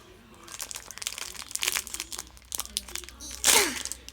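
Tape being peeled off and a wrapped present package torn open, bursts of close crinkling and crunching with a sharp ripping tear near the end, amid light handling noise.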